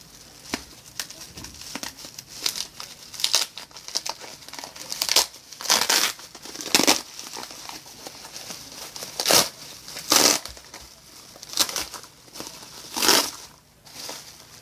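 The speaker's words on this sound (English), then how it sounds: "Sorry for all the crinkling." Pink bubble wrap packaging crinkles and crackles close by in repeated bursts of handling as mail is unwrapped, loud rustles coming every second or two with quieter gaps between.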